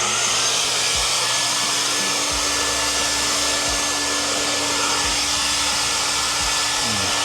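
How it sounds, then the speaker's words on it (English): A vacuum cleaner powered by a portable power station for mobile car detailing runs with a loud, steady whine and hum, unbroken and without speech. "And then we'll go with the vacuum."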